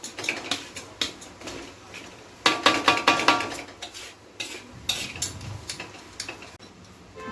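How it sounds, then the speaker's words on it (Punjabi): Boli barfi mixture made from cow colostrum is stirred and roasted in a pan with dry fruits, a run of quick metallic scrapes and ticks of the spoon against the pan, close and irregular with bursts of faster stirring. "ਚੰਗੀ ਤਰ੍ਹਾਂ ਪਹਿਲਾਂ ਮਿਕਸ ਕਰ ਲੈਣਾ ਸਾਰੇ ਨੂੰ ਤੇ ਥੋੜਾ ਜਿਹਾ ਹੋਰ ਭੁੰਨ ਲਾਂਗੇ"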